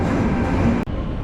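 Sprinter train bound for Amsterdam Central Station, a loud steady rolling rumble heard from on board, briefly dipping before carrying on.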